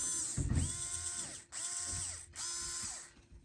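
An RC4WD crawler's drivetrain spins free under radio control on the bench, giving a whirring, ratcheting gear whine in three bursts that rise and fall in pitch, close and without talk.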